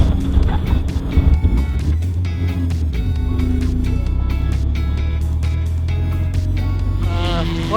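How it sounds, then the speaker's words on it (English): A VW race car at Daytona pulls away from a standstill with the clutch let out in second gear, its engine drone steady and loud throughout while voices talk over it. "Just let the clutch out in second gear."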